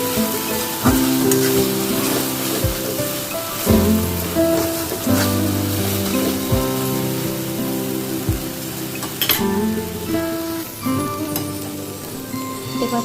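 Turmeric and salt sizzling in hot oil while being sautéed for a Bengali katla fish curry, a steady loud frying hiss broken by several sharp clinks and scrapes of a spoon against the pan.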